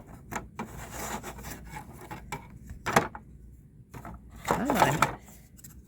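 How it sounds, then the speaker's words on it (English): Wooden dollhouse window frame pieces are sanded by hand in close, uneven rasping strokes that come in bursts and pauses, with a brief spoken remark. "this is all I've been doing since this morning, is just sanding all the pieces I've taken off"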